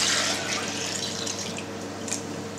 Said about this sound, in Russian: После того, как зерно осело, сливаем 2 литра сыворотки.